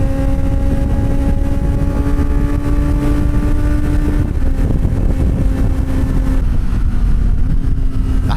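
A Kawasaki ZX-4RR motorcycle accelerating, its engine a loud, close, steady drone with tones that climb and then drop at a gear shift around the middle, under heavy wind rush, no voices.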